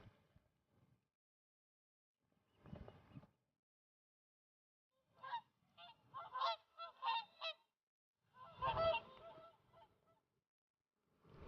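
Whooper swans flown in from Iceland give loud honking, bugling calls in several clustered bursts, with quiet gaps between them, outdoors in Scotland.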